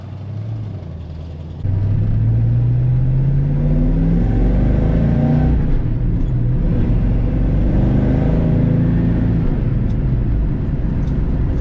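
A Ford Mustang Fastback with a loose shifter drives on, its engine a deep steady rumble that rises in pitch as it accelerates, with a jump in loudness as it pulls through gears, close and continuous without talk.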